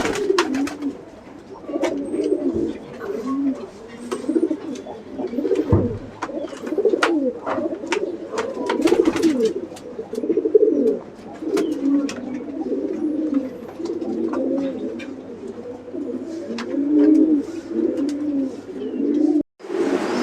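Pigeons coo continuously inside a dim pigeon-farm room in Tangail, many overlapping soft, throaty calls at close range with occasional chirps and faint knocks, no talking.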